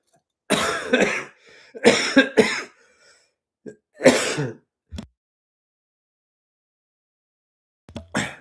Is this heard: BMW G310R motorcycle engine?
no